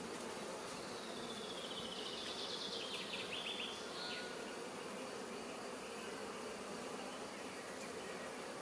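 Dense, steady buzzing of a honeybee swarm at an open hive while frames are being prepared, a continuous close hum with brief louder passes of individual bees, no talking.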